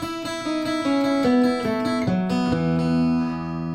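Plucked acoustic guitar notes cascade in a quick run, open strings ringing over one another before settling into a sustained chord.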